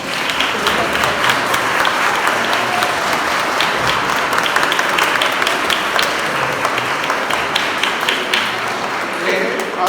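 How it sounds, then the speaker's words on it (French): Steady, dense applause from a church congregation at a Sunday faith festival Mass, clapping for the fathers; continuous and fairly loud for the whole stretch with scattered sharper claps. "applaudissons tous les pères."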